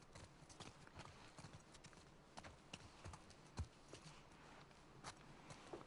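Horses walking with a soft, uneven clip-clop of hooves in The Last of Us Part 2 game, fairly quiet and steady, with faint game ambience around it.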